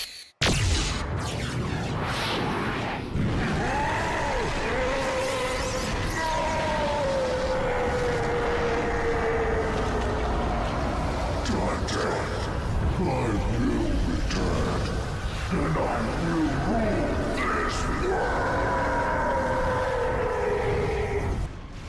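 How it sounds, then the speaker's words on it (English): A plane flies through a cave system in the video game Devil May Cry, its steady engine roar and whooshing drone holding loud and continuous throughout, with rising and falling tonal sweeps and occasional impacts, no talk. "there's a gameplay section where Dante is flying a plane through a cave system"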